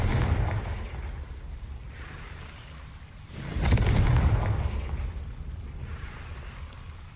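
A Confringo blasting spell explosion from a Harry Potter video game bursts out midway, a loud whooshing boom over a low ambient bed that swells and then slowly fades away.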